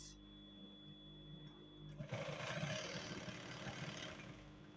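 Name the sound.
sewing machine topstitching cargo pants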